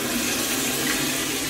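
A toilet flushes with a continuous rushing, gurgling swirl of water, steady and close for the whole moment.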